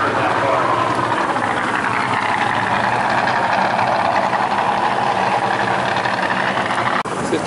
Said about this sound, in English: Small block, Fenderwell headers.